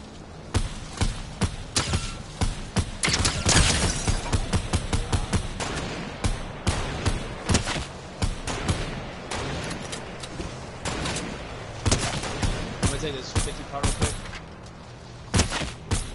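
Rapid bursts of video-game gunfire, close and loud, crackle in clusters through a firefight, with short pauses between volleys and faint talk now and then.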